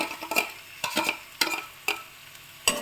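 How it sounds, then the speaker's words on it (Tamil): Potatoes being stirred in a frying pan, with a quiet sizzle under five or six distinct scraping strokes spaced irregularly, close by. "இதை நல்லா குட்டி விட்டு கிளற வேண்டியதுதான்"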